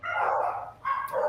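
Dogs let out two quick, close barks or yips in short succession, fairly loud and near, with no speech over them.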